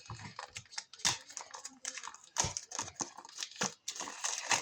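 Scissors snipping and tearing through crinkly protective plastic film on a new toy collection box, a run of sharp crisp cuts and rustles at close range with someone talking intermittently.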